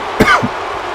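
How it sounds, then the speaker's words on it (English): A single sharp cough, close and fairly loud, followed by a brief second hack, then quiet. "sorry about the coughing"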